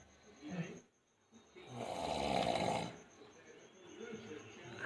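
A sleeping person snores in one long, loud rasping breath in the middle, with fainter breathing before and after; people talk quietly around it.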